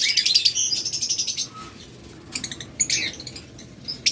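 Split fallow lovebirds, a pair, chirp in rapid high bursts up close, a run of sharp tweets followed by a short lull and more scattered calls, with no talking.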